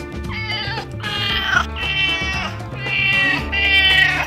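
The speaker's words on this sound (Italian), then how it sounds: "Il gatto Decibel è ultrasensibile a qualsiasi stimolo." A cat meows loudly several times in a row, drawn-out and insistent, each call close and clear over a low background hum.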